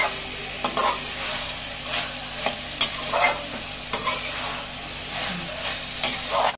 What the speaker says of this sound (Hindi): और अभी मम्मी मिक्स कर रही है अच्छे से